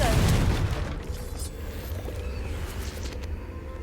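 A deep rumbling boom from a Confringo spell exploding in a Hogwarts video game, strongest at the start and then fading into a low, lingering roar.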